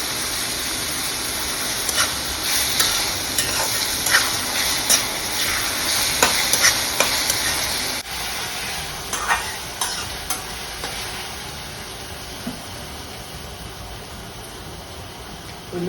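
Onions for mutton keema curry fry in a pan with a continuous hissing sizzle and rapid scraping stir strokes, busier early then settling into a calmer fry with occasional clacks, close and without talk.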